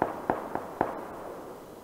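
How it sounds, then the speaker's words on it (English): Four sharp gunshots ring out in PUBG Battlegrounds, evenly spaced about a quarter second apart and fading after the last into quiet ambience, sounding moderately distant. "Somebody's out there shooting."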